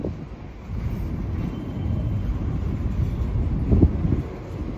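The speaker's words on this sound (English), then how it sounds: "At the next junction that this train is now approaching." Norfolk Southern westbound manifest freight train approaching a junction near Hoover Road, a steady low rumble with wind buffeting the microphone, building slightly toward the end.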